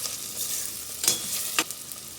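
Paneer cubes frying in a pan until light golden brown, a steady soft sizzle broken by two brief stirring scrapes, close and without voices.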